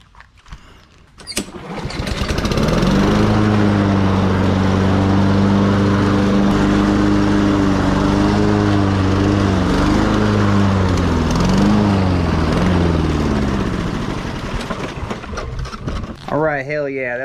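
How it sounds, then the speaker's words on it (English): Small petrol lawn mower engine, freshly refilled with a little gas during an oil change, sputters to life and then runs at a steady loud idle close by, fading slightly before cutting out. "your lawnmower is going to run for about 2 minutes"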